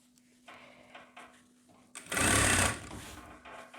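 A domestic sewing machine stitches thick fabric for a boys' jacket at home: a few soft clicks and handling sounds lead into a loud, close burst of rapid mechanical stitching lasting about half a second, then quieter handling.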